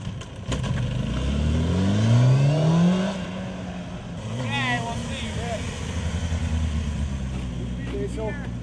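A street motorcycle engine revs hard on the throttle, rising in pitch and holding a loud roar, then dipping and climbing again, while voices shout over it.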